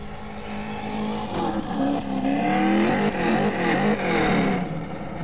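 Slash 4x4 RC car driving at full throttle on a 3S LiPo pack, its electric motor whining steadily with rising and falling pitch, continuous and fairly close, with no talk.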